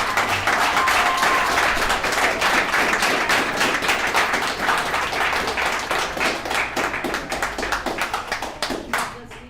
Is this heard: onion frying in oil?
no